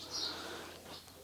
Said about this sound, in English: Can you hear the wood pigeons? I love the sound of wood pigeons.